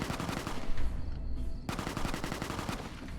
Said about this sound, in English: Who the fuck is firing?